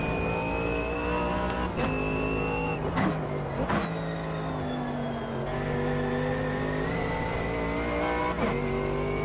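A race car engine in the video game Automobilista 2 drones loudly and continuously, revving up through the gears with brief dips at several shifts and downshifts, close and steady throughout without speech.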